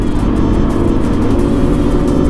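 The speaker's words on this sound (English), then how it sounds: "he popped a really good wheelie up there" Motorcycle engine revving hard and steady on a country road during a fast group ride as a rider pops a wheelie, loud and close with a constant mid-range roar.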